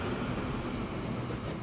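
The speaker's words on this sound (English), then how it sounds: "Now when this train comes in" A tank car train in Transport Fever 2 rumbles in steadily, a low rolling rail noise with no voices over it.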